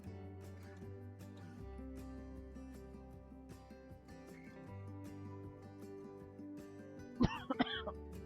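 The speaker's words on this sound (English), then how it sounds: "everybody who has headphones on is listening to me cough" A short burst of coughing near the end, a couple of harsh coughs over a steady low hum of background music.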